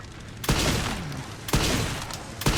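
Gunfire in the video game Resident Evil 9 Requiem: three loud, sharp shots spaced about a second apart, each followed by a ringing tail, with no talk over them.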